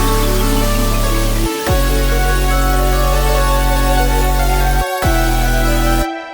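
Layered synth instrumental with atmospheric textures and a steady bass foundation, playing loud and continuous with two brief drop-out breaks before the groove returns, no voices present.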